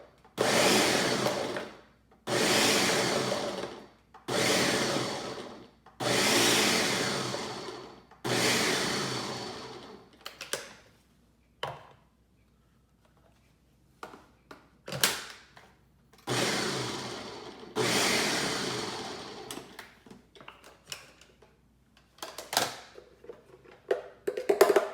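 Tomatoes and other salsa vegetables are chopped on a cutting board by hand for homemade salsa, loud repeated knife strokes in bursts, then sparser taps and cuts, with no talking.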